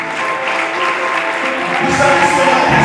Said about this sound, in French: tous nos mouvements sont toujours accompagnés des acclamations